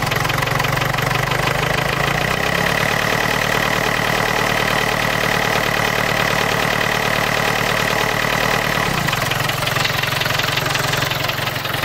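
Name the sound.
old diesel car engine idling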